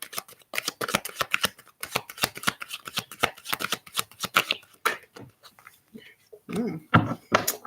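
Tarot cards shuffled by hand in a rapid rhythmic riffle of papery flicks close by, easing into scattered softer taps and slides near the end.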